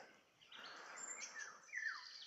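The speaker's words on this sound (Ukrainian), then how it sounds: "Пташки співають." Several birds singing and chirping at once at a countryside dacha, bright overlapping whistles and trills, fairly close, with no talking.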